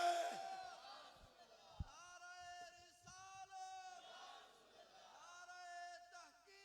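A crowd at a religious gathering at Bareela Shareef chants the Nara-e-Takbeer slogan, rising in several long, sustained shouted swells that fade between calls, all heard quietly and at a distance.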